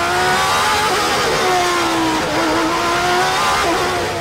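A Ferrari Formula 1 car leads the race, its engine screaming at high revs as it passes, loud and continuous with pitch rising and falling across gear changes.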